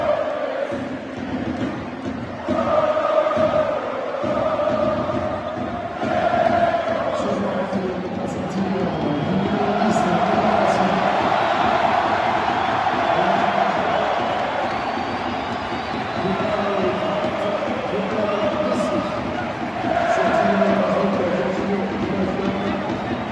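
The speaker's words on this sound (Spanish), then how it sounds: "ingresó Leo Messi por Neymar, provocando el aplauso y la ovación de hinchas tanto del PSG como del Reims." Football crowd at Paris Saint-Germain's match against Reims applauding and cheering as Messi comes on for his PSG debut, a steady roaring wash of stadium noise that swells and holds loudly throughout, with voices in the mix.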